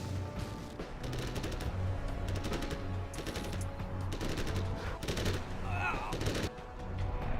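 Rapid bursts of gunfire from units trying to shoot down Raptor jets in a competitive real-time strategy match, dense and continuous with overlapping volleys, a faint whistling streak mid-clip, and commentary underneath.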